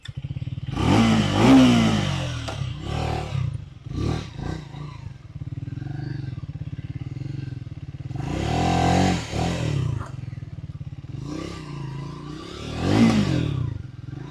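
A Triumph Speed 350 motorcycle engine idles nearby, rising in three sharp revving bursts between quieter stretches of steady running, with no talk.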